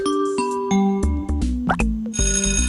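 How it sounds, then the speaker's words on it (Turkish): An electronic school bell chime rings out as a short series of bright, tonal notes, loud and close, with no talk over it. "Zil çaldı arkadaşlar."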